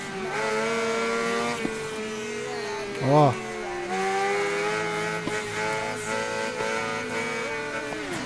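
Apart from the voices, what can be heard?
Honda Hornet 600 carbureted motorcycle accelerating in video game Ride 3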